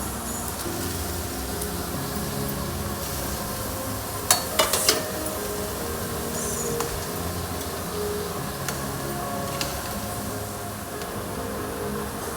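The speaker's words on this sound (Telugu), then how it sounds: "ఆ తర్వాత మనం ముందుగా కట్ చేసుకున్న బీరకాయ ముక్కలని కూడా వేసి కలుపుదాం." Chopped ridge gourd pieces stirred into a frying pan, with a steady low sizzle throughout and a brief cluster of sharp spoon-on-pan scrapes and clinks near the middle, plus a few faint later taps.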